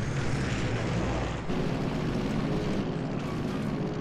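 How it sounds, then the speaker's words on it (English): Propeller airplane in a video game engine droning loudly and steadily as it flies in to land, a continuous mechanical hum with a slight shift in tone partway through. "Best plane landing ever."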